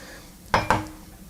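A spoon knocks twice against a casserole dish while mashed sweet potato is spooned onto a shepherd's pie meat base, two quick close clinks in a quiet kitchen.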